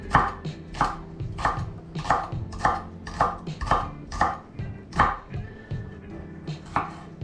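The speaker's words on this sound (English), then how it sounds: "The spring onions are really just for a dressing on the top, so you can just chop those up." A knife chops spring onions on a board in about a dozen crisp, evenly spaced strikes, close and clear, with faint kitchen clatter in the background.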